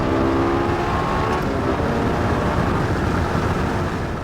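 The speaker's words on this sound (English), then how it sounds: "All of these things put together give the LFA its signature sound." A Lexus LFA's V10 engine roars loudly and close in a continuous, dense drone, with a brief higher tonal whine early on that fades into the steady engine growl.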